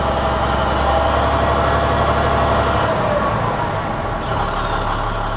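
A 2004 International 7500 truck's diesel engine idles steadily and loud, a smooth, even low rumble with a faint high whine running throughout and no talking.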